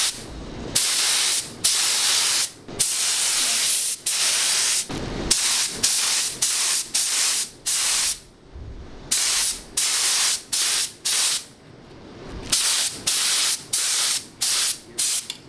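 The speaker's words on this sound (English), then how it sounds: "Okay, so now Josie is going to spray the bottom" Repeated bursts of spraying hiss as the floor of a 1973 VW Beetle is sprayed during a carpet install, loud and close, in on-off blasts of one to two seconds with short gaps.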